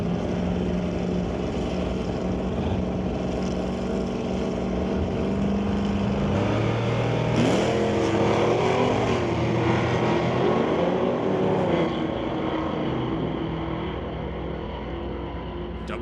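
Drag racing cars, including a 1969 Ford Falcon, roar off the line at a race strip, engines droning loudly then rising and sweeping in pitch as they accelerate away over several seconds.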